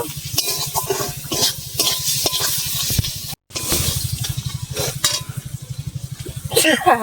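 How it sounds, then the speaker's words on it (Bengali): Spiced fish chop mixture made with chilli powder, garam masala and roasted ground chilli sizzles steadily in a pan, with repeated stirring scrapes and utensil clinks over a continuous low hum. "ভালো করে কষিয়ে নেব।"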